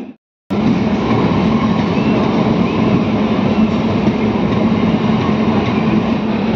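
Local train pulling out of Sonamukhi station on the Masagram–Bankura line after a long halt: a loud, steady rumble of carriages and wheels on track that starts abruptly after a brief sound and continues evenly throughout.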